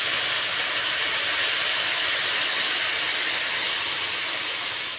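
Water poured into a hot pan flashes into a loud, continuous steam hiss that fills the whole moment, close and steady, as kulcha flatbread cooks.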